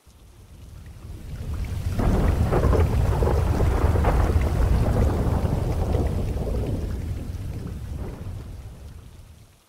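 A thunderstorm with steady heavy rain: a broad roar of downpour with rumbling thunder swells in, holds for several seconds, then fades away. No voices.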